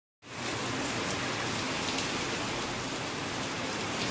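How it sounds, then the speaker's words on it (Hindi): Heavy rain pours outdoors near a building under construction, starting suddenly and then holding as a dense, steady, loud hiss with no voices. "धीरे करके बहुत ज़्यादा जम के बारिश चालू हो गई"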